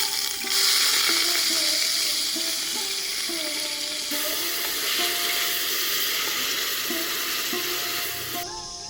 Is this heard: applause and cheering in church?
no